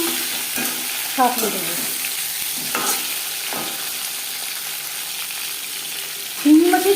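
Shing fish, stinging catfish, fry lightly in a pan with a soft steady sizzle, broken by a few scraping stirs and clinks of the spatula, while a voice speaks briefly.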